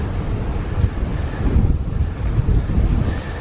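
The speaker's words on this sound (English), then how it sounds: "It's hitting me on my right hand side and then occasionally swapping around and giving me a little push." Strong wind buffets a cyclist riding in France, a heavy, continuous rumbling roar close to the microphone with gusty swells and no voices.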